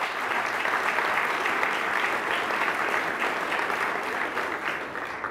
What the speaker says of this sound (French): Donc, applaudissons nos partenaires de la catégorie diamant.